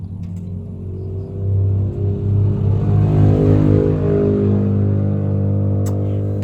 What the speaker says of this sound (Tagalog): Grabe kalangat sa mga motor guys.